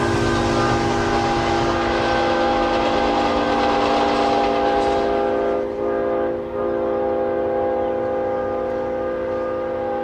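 Santa Fe Golden Gate passenger train number 60 speeds east toward Riverbank, a loud, steady roar with a sustained multi-tone horn blast running through most of the passage, easing slightly near the end.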